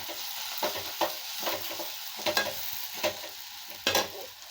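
Potatoes fry in a pan under a steady sizzle while a spoon stirs them, giving soft repeated scrapes and clatters about once a second, close up and with no talking.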